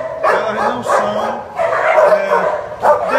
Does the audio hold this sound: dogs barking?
yes